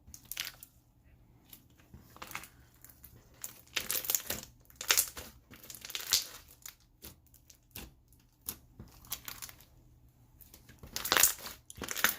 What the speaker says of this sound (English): Due to the beads, it definitely has nice bubble pops.